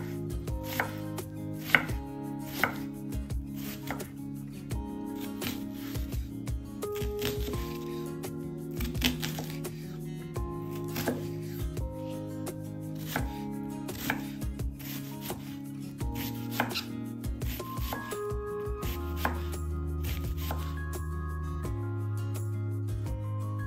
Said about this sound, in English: let's finely chop one onion